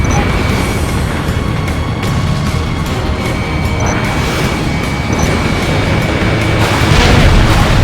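A missile strikes a building in the Ace Combat Infinity flight combat game, a dense, continuous roar of blast and rumble that stays loud and steady throughout, with a slight swell near the end.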